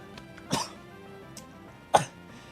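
Two short, sharp coughs, one early and one near the end, separated by a quiet pause with faint background noise.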